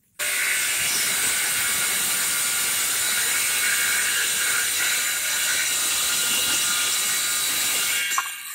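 A hand saw cuts through pallet wood with a steady, continuous rasp, close and fairly loud, holding an even level for several seconds before a sharp knock at the end.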